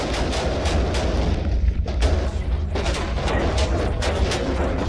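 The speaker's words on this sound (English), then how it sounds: "the operation culminated in a fierce gunfight in Los Mochis" Gunfire in a fierce gunfight, with rapid sharp cracks and bangs over a heavy low rumble, dense and continuous with a brief lull in the middle.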